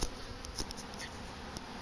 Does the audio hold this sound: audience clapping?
no